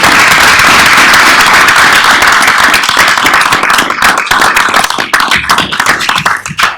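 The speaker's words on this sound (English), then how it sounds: "I just wanted to give a round of applause to all of you guys" Loud, close applause at a school board meeting begins as a thick wash of clapping, then thins over the last few seconds into scattered individual claps.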